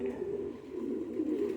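Pigeons cooing indoors, a soft low rolling coo repeated in a short continuous burst, close and fairly quiet.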